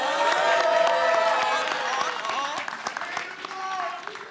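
A crowd at a hip-hop induction gala applauds and cheers loudly over music, the clapping and whoops continuing steadily throughout.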